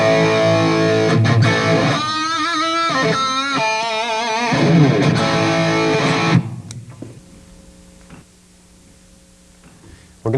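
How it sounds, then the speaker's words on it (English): An electric guitar played through a distortion pedal into a rock amp gives loud, gritty, sustained chords that ring for several seconds and then cut off, leaving a low amp hum. "sometimes I'll also be using a distortion pedal to also add another stage of gain and"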